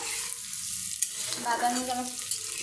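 Onion frying in a pan until light brown, a steady close sizzle with occasional stirring scrapes and a faint voice murmuring partway through.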